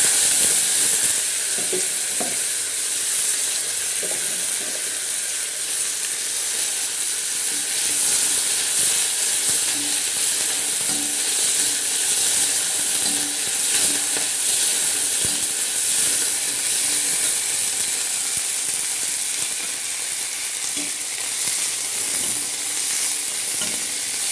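Steady, loud sizzling and hissing of curry leaves frying in hot oil, continuous throughout with faint clinks in the background.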